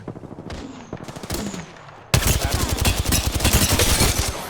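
Automatic weapon fire in the Apex Legends shooter game, a few separate shots at first, then a dense, loud, continuous rattle of rapid bursts up close.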